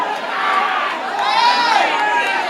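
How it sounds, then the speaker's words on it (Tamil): A large crowd of fans cheers and shouts in the Kamala cinema theatre, a dense, steady roar of voices that swells slightly midway. "இப்படிப்பட்ட ஆரவாரம்"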